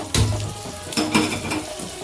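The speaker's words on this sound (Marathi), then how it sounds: "या बाजूला आपली फ्राय रेसिपी चालूच आहे" Pieces of grouper fish frying in hot oil in a pan, giving a steady, close sizzle with a couple of brief clatters of utensils.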